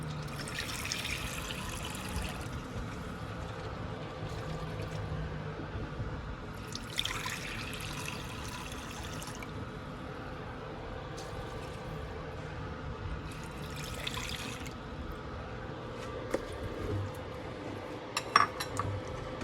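Water poured into a pan while cooking creamy chicken pastel with mushroom and green bell pepper, a soft running splash under recurring clinks of utensils and cookware in a kitchen.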